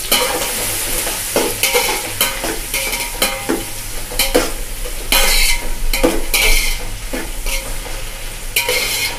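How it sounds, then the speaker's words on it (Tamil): Onions frying in oil with cinnamon, clove and cardamom for mushroom biryani, sizzling steadily while a spoon stirs and scrapes the pot in repeated bursts, close and loud, with no talk. "அடுத்தது வெங்காயம் போட்டுட்டு நல்லா கிண்டிக்கணும்."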